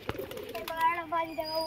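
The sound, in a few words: pigeon cooing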